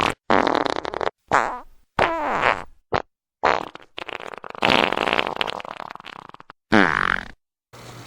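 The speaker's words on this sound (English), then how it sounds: "hope you enjoyed all those farts you just heard" A rapid series of loud, close farts in short separated bursts, some long and wavering, with no other sound between them.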